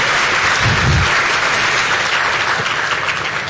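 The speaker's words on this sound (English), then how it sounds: "Let's give them a round of applause again" Audience applause fills a keynote event on designing tech for social cohesion, a loud, dense and steady clapping that runs the whole time, with a brief low thump near the start.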